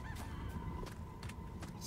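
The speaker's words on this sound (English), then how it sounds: "Chicken laid an egg." A chicken in the video game Separate Ways Chapter 2 clucks after laying an egg. A few faint, brief squawks repeat over a steady, noisy ambient background.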